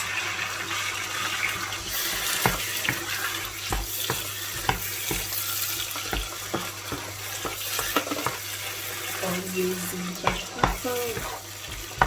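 Chopped tomatoes go into a hot pan of prawn and squid fante fante sauce and are stirred, giving a steady sizzle with repeated scraping and clinking of the spoon against the pan throughout.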